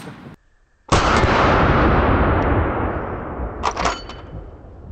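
A T-Rex rifle fires a heavy 300-grain round in one huge, very loud close blast that roars and decays over several seconds, with a brief crackle near the end.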